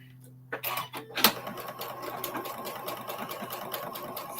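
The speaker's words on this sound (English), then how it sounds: "I'm just gonna sew these together too" A sewing machine stitching quilt pieces together, a steady rapid mechanical whirring and clatter running continuously after a few starting thumps, with a voice talking at moments.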